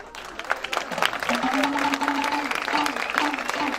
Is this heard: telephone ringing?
no